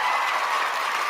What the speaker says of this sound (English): Let's give you the big applause.